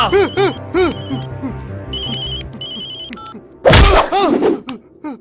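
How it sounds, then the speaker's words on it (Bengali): A phone's melodic electronic ringtone repeats in bursts during a Bengali action film scene, loud and near, broken up by a couple of dull thuds. "ফোন উঠা"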